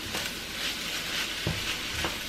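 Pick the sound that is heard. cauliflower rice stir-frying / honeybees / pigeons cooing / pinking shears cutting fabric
cauliflower rice stir-frying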